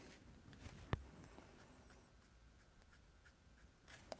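Copic marker strokes colouring on paper, faint soft scratchy swishes with a sharp tap near the start and clicks toward the end, very quiet and close.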